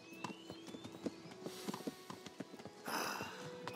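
Horse hooves clip-clop in the video game Kingdom Come Deliverance, a quick, fairly regular run of light hoof strikes at close range, with a brief burst of rustling noise near the end.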